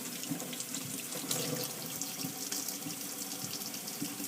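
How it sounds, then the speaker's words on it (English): Tap water runs steadily into a sink while a makeup brush is rinsed and squeezed under the stream, a continuous close splashing hiss with small shifts in texture and no speech. "Let me turn this water off."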